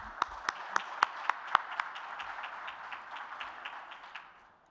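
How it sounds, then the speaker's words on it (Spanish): A conference audience claps to welcome a speaker to a talk on the role of the CISO, a modest round of applause with a few sharp nearby claps at first, fading out after about four seconds. "Recibámoslos con un aplauso."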